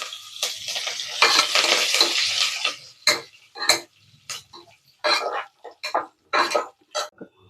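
Cumin, crushed pepper and curry leaves sizzle in hot oil in a pan while a spatula stirs and scrapes in short, repeated bursts, loud and close, with no talking.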